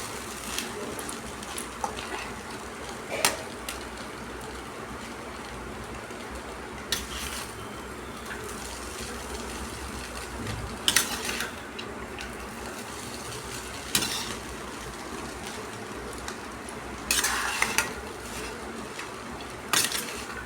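Spices are stirred by hand in a pan, with a low ongoing rustle and sizzle broken by scattered clinks and knocks of utensils against cookware, close and fairly quiet.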